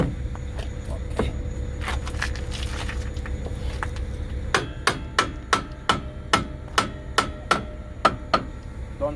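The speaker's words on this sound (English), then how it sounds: "just hit on the metal structure slightly, not to bend it or anything" A hammer strikes the metal structure of a semi trailer brake on a 2018 Utility 3000R trailer, scattered taps at first, then a run of about ten evenly spaced sharp metallic blows, close by over a low background hum.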